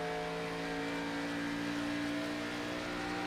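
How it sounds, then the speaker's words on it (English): Race car engine in the iRacing sim during an Xfinity Series race at Pocono, a steady sustained drone with strong tonal hum throughout, held at a constant pitch with no talking. "Listening to the car."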